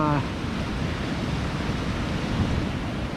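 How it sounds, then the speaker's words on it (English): The Ross Fork, a small mountain river swollen by snowmelt tributaries, rushes as a loud, steady broadband wash close by, briefly under a voice at the very start. "It was just a trickle at the top, and now it's a legit river"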